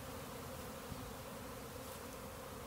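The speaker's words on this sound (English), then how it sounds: "I could see a ton more bees in the air now back over on this spruce tree." Dense, steady buzzing of a honeybee swarm issuing from its hive, a continuous droning hum that fills the air without pause, bees flying around a spruce tree.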